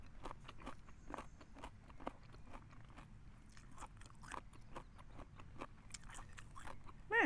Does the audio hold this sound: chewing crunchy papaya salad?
yes